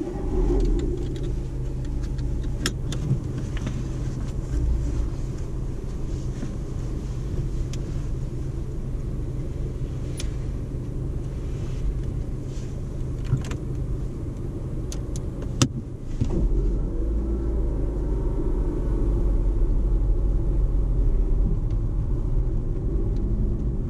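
A car pulls away from a driving test centre, its steady engine rumble and road noise running close and continuous throughout, with a brief knock midway and a slightly louder low rumble near the end.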